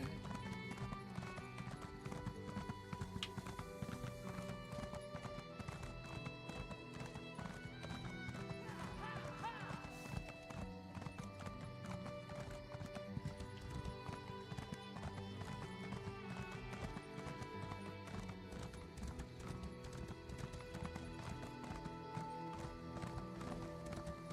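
Horse galloping in the game Elder Scrolls Online, with steady rhythmic clip-clop hoofbeats and a whinny partway through, all over a constant layer of game music.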